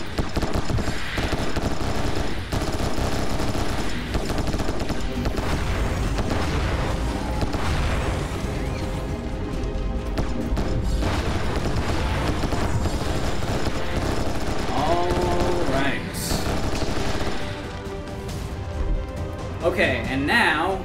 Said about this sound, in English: Okay, now we can move on to assault rifles.